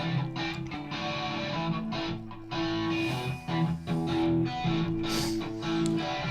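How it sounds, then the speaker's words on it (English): A distorted, dirty electric guitar plays a busy riff of choppy chords and notes with a gritty, saturated tone. It runs steadily for several seconds with no voices. "I can take the dirt guitar that I was talking about, which sounds like this"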